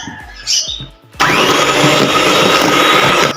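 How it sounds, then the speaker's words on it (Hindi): An electric mixer whirs loudly and steadily while beating cake batter, starting abruptly after a moment of faint clatter and continuing without pause, close and alone with no talking. "ये इसको अच्छा सा मिक्स कर लेते हैं"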